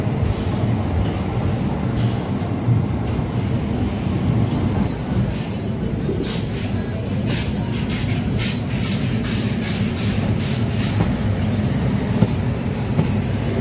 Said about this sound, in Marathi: आपली कलबुर्गी सुपरफास्ट एक्सप्रेस सोलापूरवरून निघालेली आहे